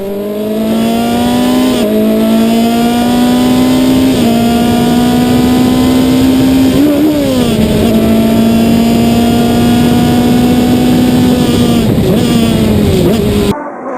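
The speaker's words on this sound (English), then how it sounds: "As we come out of the hairpin though and I shift up through the gears, if you listen close you'll hear a mistake." Onboard a Formula 2.0 race car in a vintage road race at Spring Mountain, Pahrump, the engine screams loudly as it accelerates out of a hairpin, its pitch climbing and dropping through several upshifts, one of them fumbled.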